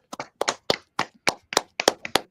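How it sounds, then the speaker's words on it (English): Audience applause in a lecture setting: about a dozen sharp, distinct hand claps in quick succession, fairly close and clear, with no talk over them. "we should all put our hands together and give an enormous applause to Mr. Joe Firmage."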